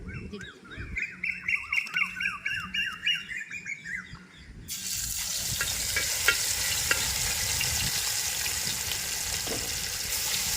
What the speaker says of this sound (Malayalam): നമ്മുടെ പെരട്ടി വെച്ചിരിക്കുന്ന വരാലി എണ്ണയ്ക്കകത്ത് ഇടാൻ പോണേ